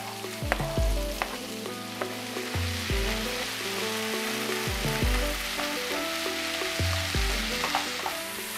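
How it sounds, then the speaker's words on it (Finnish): Chopped onions, peppers and chilis sizzle steadily in a hot oiled pan, a continuous close crackle with a few louder spits, set against a sustained tonal background. "pistetään nämä just pilkotut sipulit ja paprikat ja chilit myös sinne"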